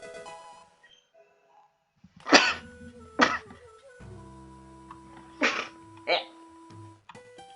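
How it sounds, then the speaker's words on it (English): Two sharp, loud sneezes burst out close to the microphone, followed by two more after a pause, over a quiet backdrop of video game music and chimes. "I'm probably gonna sneeze again."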